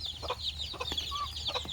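Backyard chickens on a rainy day cluck and call in short, overlapping bursts, fairly faint and close, with a soft background hiss.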